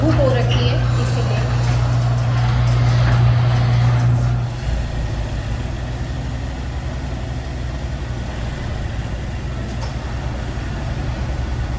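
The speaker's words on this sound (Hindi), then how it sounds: "चलिए गाड़ी को अंदर खड़ी कर देती हूँ क्योंकि बाहर बहुत ज़्यादा धूप हो रखी है" A car is driven in and parked, its engine rumbling steadily up close with a loud low hum in the first seconds, then dropping to a quieter idle for the rest, while someone talks over it.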